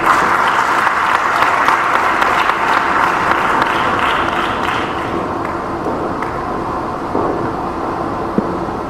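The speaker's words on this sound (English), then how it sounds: "Judging by the applause, I know the energy level is low" Sustained audience applause fills a conference hall after a closing speech, a steady dense wash of clapping that eases slightly in level toward the end.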